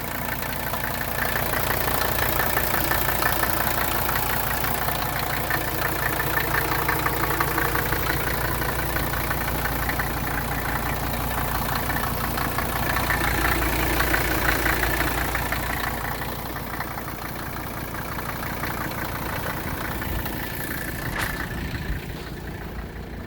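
A 1983 Mercedes-Benz 300D diesel engine idles steadily up close with an even, clattering knock, running alone without talk and easing slightly quieter toward the end.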